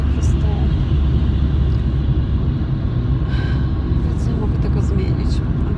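A car driving through wintry, festive Kraków streets, a steady loud rumble of engine and road noise continuing throughout without pause.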